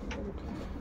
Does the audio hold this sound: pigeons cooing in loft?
yes